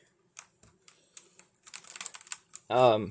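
Keys clack on a Pulsar Nova Pro optical linear keyboard in short scattered bursts of sharp taps, close and fairly quiet, before a voice starts speaking at the end.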